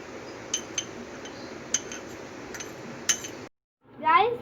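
A spoon scrapes and clinks against a bowl as milk powder is stirred into milk, producing several sharp taps at uneven intervals. A voice follows briefly after a short silence.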